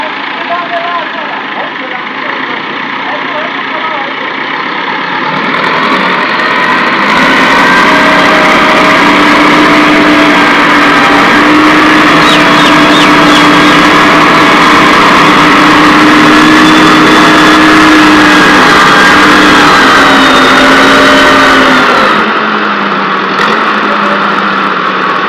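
A tractor engine runs loud and close in Pakistan, a steady rumbling drone that swells and holds from about seven seconds on before easing back, with voices talking over it.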